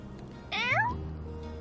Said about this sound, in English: No, kitty. Bad kitty.